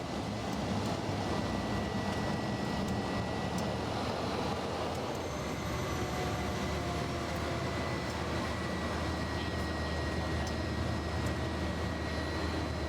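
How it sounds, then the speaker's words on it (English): A Cessna passenger plane carrying ten people lands and rolls along the runway in Arusha, Tanzania, with a steady, loud broadband engine and wind roar and faint tonal whines running throughout. "The aircraft touches smoothly and safely to the landing zone."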